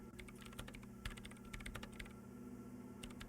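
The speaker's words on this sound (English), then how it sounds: "Her hands typing hundreds of commands into the machine." Fast, irregular keyboard typing in the video game Disco Elysium, with a dense patter of quiet clicks over a low electronic hum and no voices.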